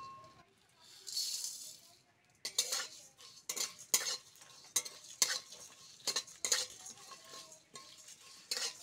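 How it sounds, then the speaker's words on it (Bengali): Spices dry-roasted in a pan while making a kabuli chickpea curry, with a series of sharp scraping and rattling strokes of a spatula against the metal, fairly close and moderately loud, after a short quieter stretch at the start. "মশলাগুলো একটু কাঠখোলায় ভেজে নেব"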